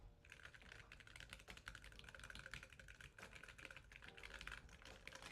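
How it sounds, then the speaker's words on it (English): Typing on a keyboard with Kailh Choc low-profile linear switches, a quick continuous run of soft close-up keystrokes, faint and without any talk. "Kale Chalk low profile switches, and they sound like this."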